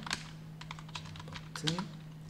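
Quick, irregular clicks of a computer keyboard as HTML code for a button is typed, close and fairly soft, with a steady low hum underneath and a brief voice near the end.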